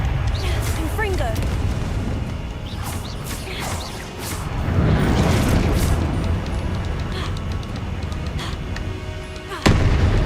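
Repeated Confringo blasting-spell explosions in Hogwarts Legacy, a string of loud booms and bursts layered over continuous game combat noise, with one sharp blast near the end.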